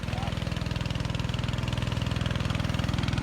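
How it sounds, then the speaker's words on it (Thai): A water pump engine pumping water from a fish pond into a rice field chugs close and loud in a fast, even, steady rhythm. "กับเครื่องสูบน้ำตรงนี้นะครับ"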